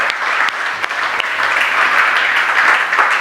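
A church congregation claps together in a dense, loud, sustained round of applause that holds steady for a few seconds.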